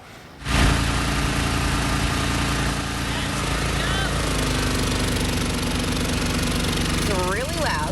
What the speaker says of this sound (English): that's exactly what Destiny is about to do with a crane